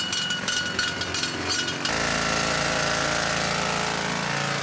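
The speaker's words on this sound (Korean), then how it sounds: "차감기라 부르는 공구로 다이너마이트를 심을 구멍을 뚫는 작업자들" Rock drills bore holes for dynamite inside a gold mine tunnel, a loud harsh continuous hammering roar that starts abruptly after a short rattling burst.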